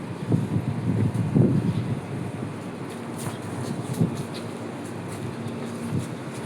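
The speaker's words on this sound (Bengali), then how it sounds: "প্রচুর বাতাস আজকে" Strong outdoor wind buffets the microphone in steady low rumbling gusts, loudest in the first seconds and then easing to a constant roar with faint higher swishes.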